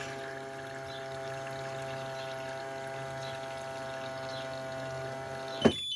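A Telve Doktoru Turkish coffee machine with a low-water fault hums steadily as its pump draws water, ending in a short sharp clack.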